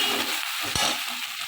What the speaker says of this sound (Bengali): আমি এইভাবে রসুনটাকে ভেজে নিচ্ছি